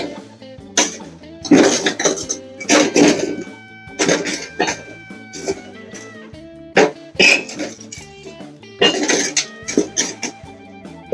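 Metal Australian Army issue folding shovel scraping and clanking against coals inside a Dusty Moose bullet smoker, in irregular bursts of gritty scrapes and clinks, close and fairly loud.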